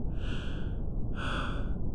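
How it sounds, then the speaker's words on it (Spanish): Two ragged, breathy gasps, each drawn out for most of a second, close and fairly loud over a steady low rumble. "Despierto, jadeando, tosiendo"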